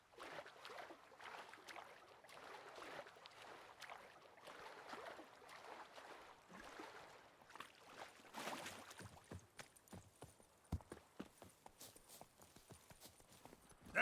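Roach, the horse in The Witcher 3, trots with a steady, quiet rhythm of hoofbeats that grows sharper and more distinct in the later half, with no talking.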